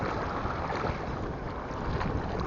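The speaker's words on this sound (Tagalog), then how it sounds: "Masisi na kayo mga master kung medyo maingay ang hangin dito." Strong wind at a fishing spot buffets the microphone in a steady, roaring rush, with no other sounds standing out.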